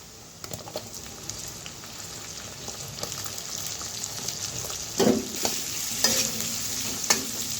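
Ginger, garlic, green chili and onion sizzle in a pan for chili chicken, with a soft hiss under repeated close scrapes and clatters of a spoon stirring, growing busier toward the end.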